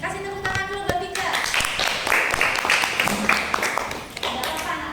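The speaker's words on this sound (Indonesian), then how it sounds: "Kasih tepuk tangan dulu buat Tika." Classroom clapping for a student named Tika, a short burst of hand claps from a small group of students mixed with chatter and a teacher's voice.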